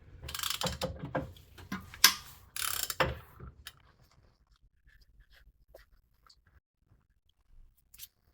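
Ratchet wrench clicking rapidly and loudly as a bolt is loosened from a 2008 Acura MDX engine near the radiator support, followed by quieter scattered taps and small metal handling noises.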